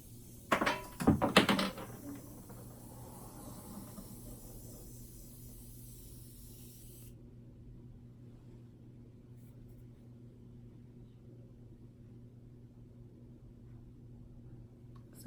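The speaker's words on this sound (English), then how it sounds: "I'm gonna put on setting spray, hold on." Makeup setting spray misted onto a face in a few quick, close hissing bursts near the start, then a quiet room hum for the rest.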